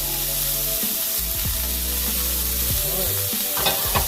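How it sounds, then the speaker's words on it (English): Meat frying in warm olive oil in a pan over medium heat, with a steady bright sizzle throughout and a few stirring clatters, heard close. Someone says a single word. "the oil is nice and warm, so we're gonna put our meat"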